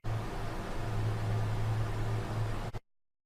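Low bass layer of a League of Legends Ryze sound effect, sustained under infinite EOS reverb: a steady, dense wash with a droning low hum that holds evenly for under three seconds, then cuts off abruptly into silence.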